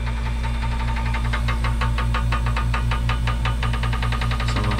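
Hoshizaki ice maker running loud and close, a steady low throbbing hum with a regular pulsing beat and rattling mechanical churn, as it cycles toward dropping ice.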